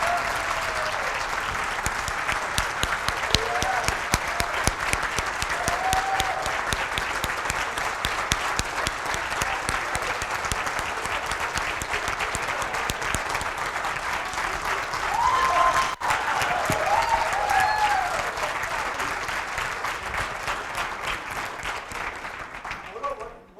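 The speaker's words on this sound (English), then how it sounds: "A big round of applause for them." Sustained audience applause for a group of volunteer supporters at a charity fundraising event, dense steady clapping filling the room for over twenty seconds, swelling slightly near the end, with a few faint voices underneath.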